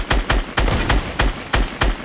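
Rapid gunfire in an online battle-royale shooter game, several sharp loud shots in quick bursts with short gaps between them, no talk over it.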